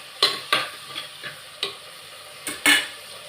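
Tomatoes and three green chillies fry in a pan, with quiet sizzling broken by a series of sharp spoon-stirring scrapes and taps at uneven intervals.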